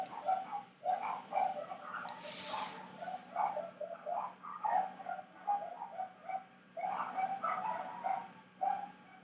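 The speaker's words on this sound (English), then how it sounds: "Man, my pups will bark at anything." Several dogs bark in short, repeated bursts indoors, somewhat muffled and moderately distant, with uneven gaps between yips.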